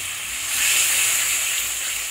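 Water poured into frying masala for Bengali egg curry (egg kosha), a loud steady hiss and sizzle that swells quickly and holds for a couple of seconds, close up with no talking.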